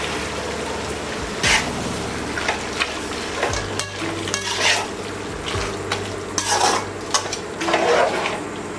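Boiled mutton and ground masala cook in a pan for a village-style mutton curry, with a crackling sizzle under scraping stirs and a few knocks of the utensil, close and moderately loud, with no speech.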